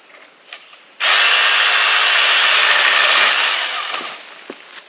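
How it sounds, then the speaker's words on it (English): Wild Badger 40V cordless pole saw cutting a small limb: a sudden loud, high motor whine that starts abruptly, holds steady for about three seconds, then tapers off as the cut finishes. "So I'm going to start with a small limb first, like this one."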